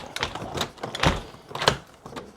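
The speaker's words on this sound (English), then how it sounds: "So we've come out, we want to go, we close the door" A front door fitted with a WELOCK biometric euro cylinder lock is pulled shut, giving a few close, sharp knocks and clacks in quick succession.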